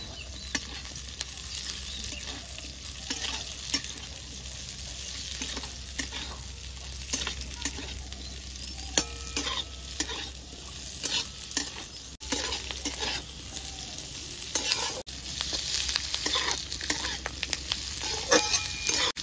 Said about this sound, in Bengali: তো আমার পেঁয়াজ, রসুন আর লঙ্কা ভাজা হয়ে গেছে